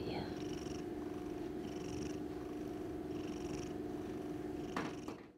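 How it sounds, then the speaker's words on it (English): An elderly cat purrs steadily and close up, a continuous low rumble that holds throughout with faint soft sounds over it and a small knock near the end. "Oh, are you purring?"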